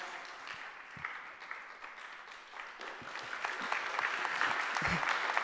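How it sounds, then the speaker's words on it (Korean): A crowd at a Korean community debate in Hawaii claps for the panel moderators, giving fairly faint, steady applause with a few sharper claps standing out, heard somewhat distant and building slightly toward the end. "다시 한번 큰 박수로 맞이해 주십시오."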